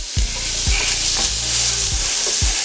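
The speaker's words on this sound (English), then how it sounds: "I'm going to put my onions in the pan, and I'm going to saute these down just a little bit here." Chopped onions sizzle in a hot pan, a steady frying hiss broken by a few stirring knocks of a utensil against the pan.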